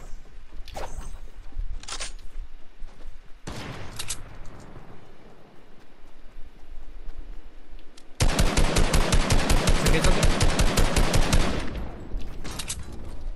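Video game gunfire in a multiplayer shooter: scattered single shots early, then a loud sustained burst of rapid automatic fire lasting several seconds, followed by a few more isolated shots.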